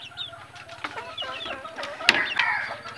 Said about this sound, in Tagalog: Talisayin natin na labuyo.